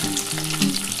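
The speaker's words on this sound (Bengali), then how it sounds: "আগে এগুলো ভেজে তুলে নেবো" Eggs frying in hot oil for a dhaba-style egg masala curry, a continuous close sizzle with crackling pops and no talk.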